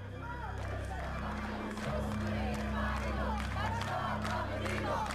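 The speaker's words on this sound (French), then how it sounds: "ces manifestants réclament pacifiquement le départ de Bachar el-Assad," A large crowd of protesters in Aleppo, Syria, chanting and shouting together in a steady, dense roar with scattered claps, sustained from start to finish.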